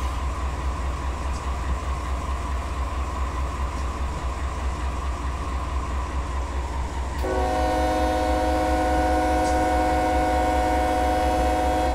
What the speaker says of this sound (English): you're constantly blowing the horn